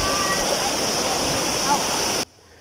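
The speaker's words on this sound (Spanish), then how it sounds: "la fuerte corriente de agua que amenaza con seguir socavando su orilla" The flooded Guatapurí river surges as a strong rushing current, a loud, dense, continuous roar of churning water that cuts off abruptly near the end.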